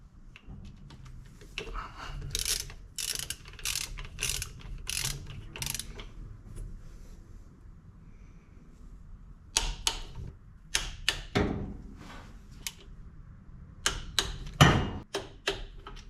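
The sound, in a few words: tightening bolts on ZL1 supercharger pulley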